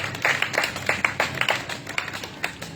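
Clapping from the congregation at an evangelical church service, a brief, uneven burst of hand claps, moderately close and lively, fading after under three seconds.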